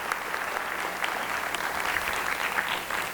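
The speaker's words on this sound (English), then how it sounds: "you can give them a round of applause as well, please" An audience at a school district state-of-the-district event claps steadily for about three seconds, a dense, even wash of many hands with no voices over it.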